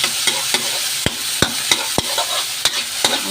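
Garlic fries in a pan while being stirred, a loud close sizzle punctuated by regular sharp scrapes and knocks of the spoon against the pan.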